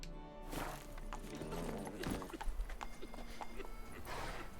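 Geralt's horse Roach in The Witcher 3 galloping, a rapid run of hoofbeats with clip-clop thuds over game ambience, fairly quiet and steady.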